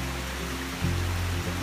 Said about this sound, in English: Look at that water, comes all the way down that waterfall.